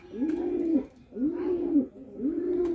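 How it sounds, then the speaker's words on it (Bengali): Giribaj pigeons coo close by, three rounded, rolling coos in an even rhythm with brief pauses between them. "জোড়া সুন্দর এক জোড়া কবুতর, জোড়া খাইছে, অনেক সুন্দর একটা কবুতর"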